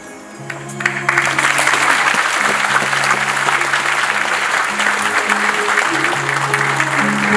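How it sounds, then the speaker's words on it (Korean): Loud, dense audience applause after a poetry recitation at a Korean public event, steady for several seconds with a sustained musical tone running underneath. "다시 한번 뜨거운 박수 부탁드립니다."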